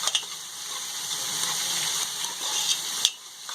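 Grated garlic sautéing in a pot: a close, moderate sizzle with steady crackle and a few sharp pops.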